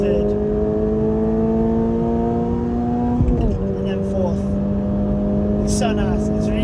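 A Toyota GR86 in track mode pulls hard with a steady rising engine note, dips briefly as it shifts into third, then climbs again, loud and close from inside the car.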